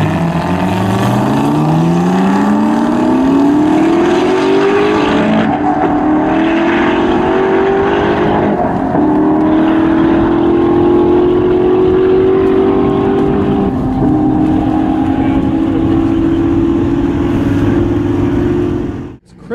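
An 1100-horsepower twin-turbo Ford GT on a top-speed run, heard from inside as the engine climbs through gears with rising pitch, brief shift breaks, then a long sustained high-rpm roar that cuts off abruptly at the end.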